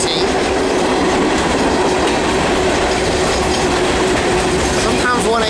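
Norfolk Southern freight train 118, a northbound run, rolls past on the rails of the Piedmont Division near Charlotte, with a loud, steady, close rumble, a rhythmic clickety-clack from the wheels and a faint squeal near the end.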